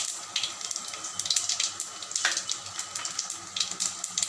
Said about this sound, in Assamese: পাঁচফোৰণখিনি ফুটি উঠিছে